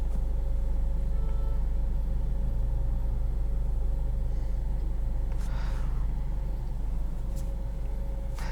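2011 Acura RDX Turbo in sport mode on the highway, a steady low engine and road rumble from inside the cabin, continuous and moderately loud with a faint whoosh near the end.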